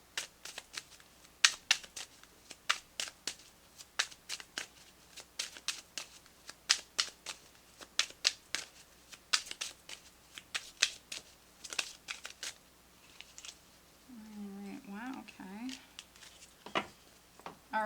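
Tarot cards being shuffled in a repeated run of crisp riffling bursts, close and fairly quiet, ending with a short spoken remark near the end.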